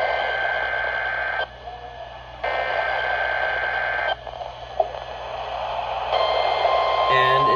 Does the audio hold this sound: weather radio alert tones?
yes